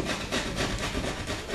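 A utility knife trims the back edge of sheetrock around a light switch box cutout, giving close, rough, rasping scrapes in quick repeated strokes.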